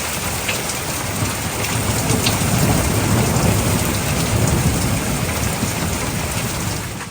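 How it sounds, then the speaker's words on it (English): Heavy rain pours down steadily during a thunderstorm in a British September, a dense continuous hiss with low rumbling throughout, loud and close. "It's also been thundering and lightning as well. This is the most rain we've ever seen since we've been here."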